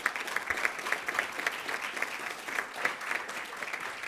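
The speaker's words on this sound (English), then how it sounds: "Give them a round of applause." Audience applause for credit union employees at an annual membership meeting: a steady, dense wash of many hands clapping that holds at an even level from start to finish, with no talk over it.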